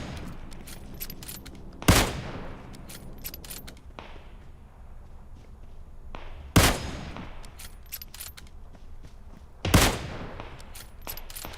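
Automatic rifle fire in a shooter video game: three loud, sharp bursts spaced a few seconds apart, each decaying quickly, over a low background of game ambience.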